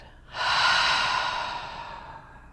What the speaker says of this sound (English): Let's take another big breath in and a big breath out.